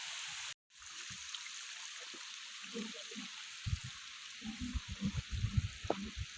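Natural waterfall stream at Dereova, water flowing and trickling steadily and close, with splashing footsteps wading upstream through the shallow current.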